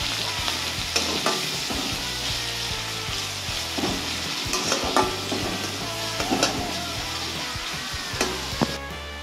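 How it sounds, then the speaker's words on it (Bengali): Chopped onions fry in hot oil with dried red chilli, cardamom, cinnamon and cumin for a mixed vegetable sabzi, sizzling steadily while a spoon stirs and scrapes the pan in uneven bursts. "পেঁয়াজ কুচি দিয়ে আমরা পেঁয়াজ কুচিগুলোকে ভালো করে ভেজে নেব"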